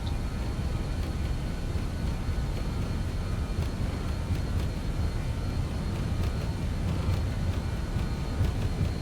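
Steady roar of BAe146 jet engines at takeoff power in a flight simulator game, a dense continuous broadband rumble holding level and loud throughout with no letup.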